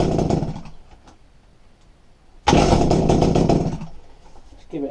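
A Kawasaki TF22 hedge cutter's small two-stroke engine bursts into a loud, rough run right after firing, after a quieter stretch, then fades back down near the end.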